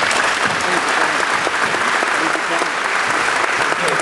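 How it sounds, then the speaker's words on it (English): A round of applause from a presentation audience, dense and loud, sustained evenly for several seconds with no break. "One more round of applause as well."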